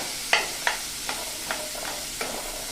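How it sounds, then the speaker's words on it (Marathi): Chopped onion sautéing in a pan for dal fry, soft sizzling under a series of sharp scraping stirs spaced about half a second apart, close and fairly quiet. "कांदा पहिल्यांदा छान परतून घेऊया."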